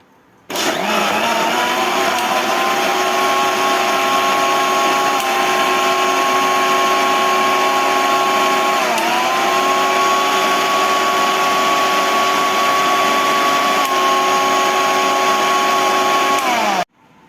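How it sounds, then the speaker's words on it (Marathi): A kitchen mixer blends papaya with milk, sugar and cardamom powder into a shake, running as one loud, continuous high-pitched whir for about sixteen seconds with a brief dip midway before cutting off. "मिक्सरला फिरवून घ्यायचं।"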